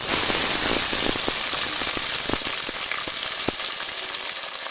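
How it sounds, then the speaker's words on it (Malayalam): Shallots and ginger fry in hot oil in a pan, giving a steady, dense sizzle with scattered sharp pops and crackles, loud and close throughout with no voices. "നമ്മുടെ ചുവന്നുള്ളി ഇഞ്ചിയൊക്കെ നന്നായിട്ട് മൂത്ത് വന്നിട്ടുണ്ട്"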